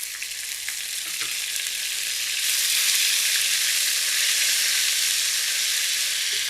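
Ginger-garlic paste lands in hot oil with cardamom, cinnamon and bay leaf, and a steady close sizzle swells louder partway through, with no talk.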